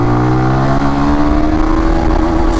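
A Benelli 165s motorcycle accelerates hard, its loud close engine note climbing steadily in pitch through a gear, with a strong, even drone throughout and no talking.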